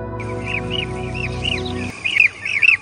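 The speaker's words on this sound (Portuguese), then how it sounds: "o abelharuco se destaca com suas cores exuberantes e comportamento singular" A European bee-eater in the German wild gives a series of short, rolling chirps repeated in a quick rhythm, clear and fairly near. A low humming drone sits beneath the first part, then drops away.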